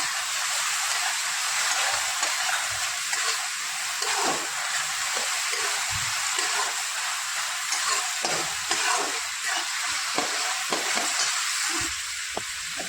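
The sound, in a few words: onion sautéing in a pan with a little water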